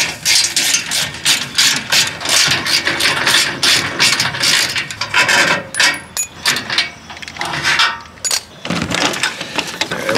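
Boat winch being worked off a jon boat trailer, a ratcheting mechanism clicking and grinding in close, busy bursts with gear and metal rubbing throughout, loud and near.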